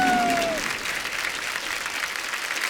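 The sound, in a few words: studio audience applause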